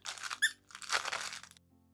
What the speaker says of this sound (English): Now the last thing we're gonna do is add the little squeaky plastic things.